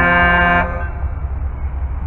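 A loud Norfolk Southern train horn blast sounds briefly and cuts off, leaving a low rumbling hum of a passing intermodal train engine behind it.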